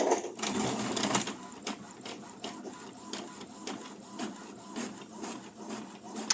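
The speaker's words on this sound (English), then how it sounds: "click OK here, and then print a test page so that you'll see how the difference will be" Epson ET-2600 inkjet printer running a test page, with rhythmic mechanical clicks and whirring carriage passes repeating at short intervals, close and steady.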